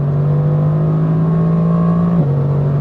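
A 585 hp Mercedes-AMG GT R accelerates hard in race mode on the autobahn, its engine droning loudly and steadily before a brief dip in pitch, like a gear change.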